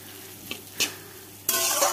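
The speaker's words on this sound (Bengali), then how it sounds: "মোটামুটি ভাজাও হয়ে গেছে মশলা দিয়ে" Ground spices with cumin, ginger and chilli paste fry in a pan while a spoon stirs, giving a few short scraping taps before a steady close sizzle takes over for the last half-second.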